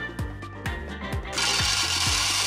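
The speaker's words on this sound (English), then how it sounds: "I think it is possible to make this project with just some eyelet pliers, but I am very thankful that I have this machine." An eyelet setting machine presses metal eyelets into fabric scraps with about five sharp, evenly spaced mechanical thumps, close and clear, followed by a steady rushing hiss in the last second.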